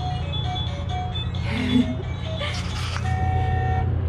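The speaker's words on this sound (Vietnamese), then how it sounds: "bấm nút nè bấm nút nè bấm nhạc nè bấm kèn cho mẹ đi bấm kèn bim bim bim đi" A child's toy ride-on car plays an electronic jingle as its buttons are pressed, a bright tonal tune running continuously at close range, with a short horn-like toot partway through.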